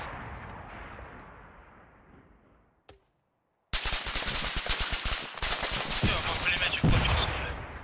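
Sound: machine gun fire in video game Arma 3

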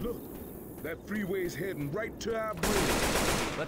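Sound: gunshots in a video game

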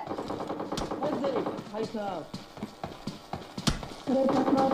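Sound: gunfire in the video game PUBG Mobile Lite

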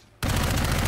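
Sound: gunfire from enemies in the video game Dark Void

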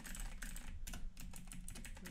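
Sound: typing text on a computer keyboard in the Vim editor

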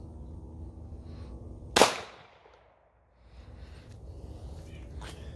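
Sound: 9mm gunshot from a Glock 19 pistol at a steel door

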